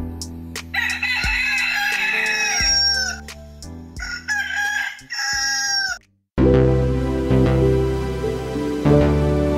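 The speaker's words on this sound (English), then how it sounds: "Let's cue the rooster and get this show started." A rooster crows several times in close, loud succession, with clucking between the calls, before a different sustained sound takes over.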